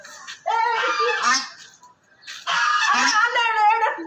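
A duck quacks in two loud, raspy bursts close by, with a short pause between them.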